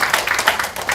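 An indoor audience at a documentary screening gives a short, quick burst of clapping, about seven rapid, fairly close claps in one second.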